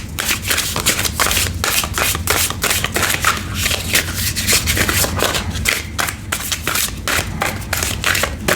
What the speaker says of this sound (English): I'm not good at shuffling this way.